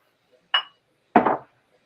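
A glass dish of rice is handled and makes two short clinks about half a second apart. The second clink is a little longer and fuller, and the room is otherwise quiet.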